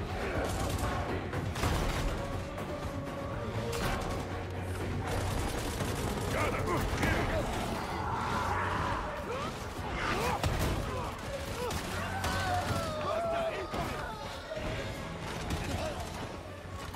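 In Warhammer 40,000: Darktide, a cannon-like gun fires in heavy, booming blasts and clattering bursts amid other game noise, with a voice talking over much of the action.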